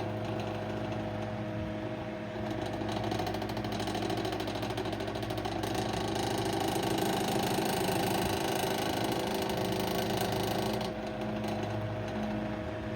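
A Westinghouse Pacemaker 10-inch desk fan runs continuously with a dense mechanical hum and a buzzing rattle, loud and steady throughout with no voices.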